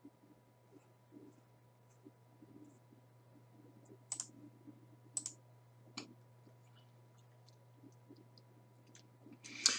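A computer mouse clicks sharply a few times at an uneven pace, close and fairly loud, over a steady electrical hum and faint background noise.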